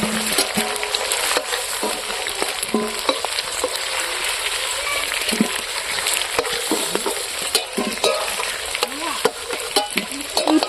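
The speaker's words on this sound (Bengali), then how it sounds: "মাংসটা ভাজা ভাজা হয়ে গেছে, এখন নামিয়ে নেব।" Big pieces of pork fat fry in a wok of plentiful oil for a village-style curry, a loud steady sizzle broken by frequent scraping stirs throughout, with no talking.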